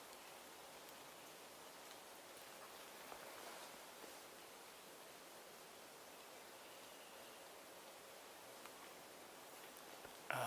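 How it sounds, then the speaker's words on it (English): Very light rain falls outdoors as a faint, even hiss of fine patter that stays steady throughout, with no voices. "very light rain falling"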